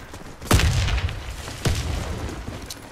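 Two grenade explosions in the Warface shooter game, each a sharp, loud blast with a rumbling low tail, about a second apart.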